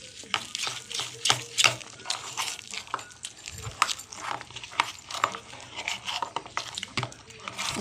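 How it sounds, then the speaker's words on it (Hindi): Onion pakora batter with yogurt being stirred by hand in a bowl, a run of close, wet, rhythmic mixing strokes. "अब हम इसको अच्छी तरह मिक्स करते हैं।"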